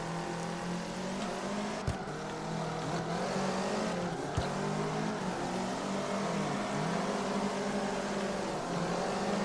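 A stock drift car in the CarX Drift Racing video game, its engine droning and shifting pitch steadily while tires squeal through drifts, with a couple of short sharp knocks and no talking.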